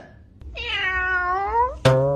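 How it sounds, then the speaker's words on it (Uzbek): A neighbour's cat, brought from the Netherlands, lets out one long, loud, drawn-out meow that rises and falls, then starts a second sharp meow right after, close by in a quiet room. "Qo'shnini mushugi kirib qoptadi."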